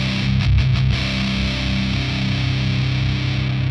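Electric guitar played through a Fender Hammertone distortion pedal at maximum gain, a thick, saturated sustained chord that rings out for several seconds after a brief choppy attack, loud and alone.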